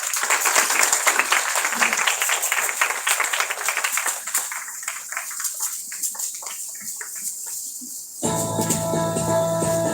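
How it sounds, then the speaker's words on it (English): Audience applause at an academic ceremony, the inaugural function of a national conference: dense, sustained clapping from a large crowd that thins toward the end before a hum and tones take over. "A warm round of applause as we celebrate this significant academic milestone."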